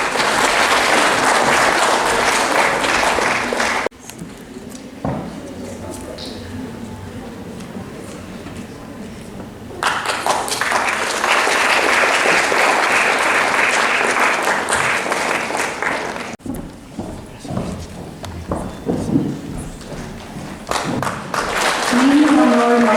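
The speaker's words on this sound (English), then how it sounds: "A round of applause, please." An audience at a school results ceremony claps in a sustained round of applause that fades out around four seconds, then swells again mid-clip, with talk and crowd noise in between.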